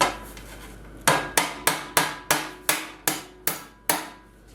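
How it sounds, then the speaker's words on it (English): Roofing nails are driven into a big block of wood with a hammer, about nine sharp, loud blows landing in a steady rhythm, each with a short ringing decay, and no talk. "I'm using a big block of wood, so I'm just going to take a couple of roofing nails"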